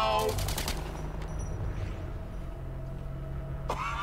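Rapid gunfire in the video game Suicide Squad Kill the Justice League, a dense burst of automatic shots up front that gives way to a lower rumble and scattered effects, with a voice breaking in near the end.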